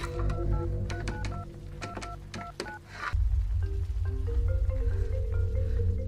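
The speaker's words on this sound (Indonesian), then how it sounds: "Mary pun berusaha menenangkan diri dan segera menghubungi Bobby" A phone number is dialed on a mobile phone: a quick run of short keypad beeps, then a steady tone pattern, clear and close with no speech.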